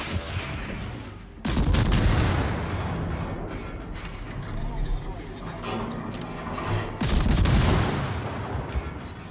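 Naval shell gunfire in World of Warships, heavy booming salvos with rumbling blasts near the start and again later, sustained low roar between, under game ambience.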